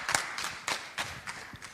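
Audience clapping heard as a few slow, spaced claps, six or so distinct hand strikes in a loose rhythm, fairly quiet with no talking.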